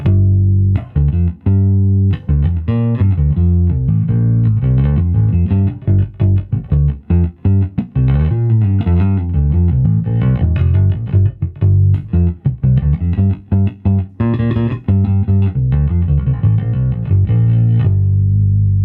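A Squier Mini P Bass plays a busy, warm-toned line of plucked notes with brief gaps, fairly loud and close, with no other instruments or voices.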